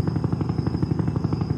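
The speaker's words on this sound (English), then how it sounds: "we're all gonna go hop in the military helicopter that's literally floating in midair" Military helicopter in a video game, hovering in midair, its rotor thumping in a steady rapid pulse with a constant turbine whine, loud and continuous with no talk.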